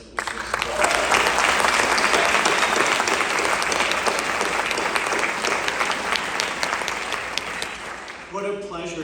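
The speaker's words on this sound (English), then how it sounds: "please join me in giving another round of applause to the marching band and to the wonderful singers that we just heard" A large Constitution Day crowd applauds a marching band and singers, dense clapping swelling quickly and holding steady before fading, with a voice starting to speak near the end.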